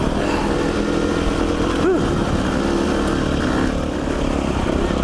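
Off-road motorcycle running continuously over rocky desert terrain between Red Rock and Last Chance Canyon, a steady loud engine drone with a brief rising pitch swoop near the two-second mark.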